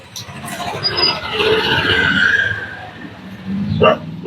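A dog barks and yelps a few times nearby, mixed with background noise and a brief voice.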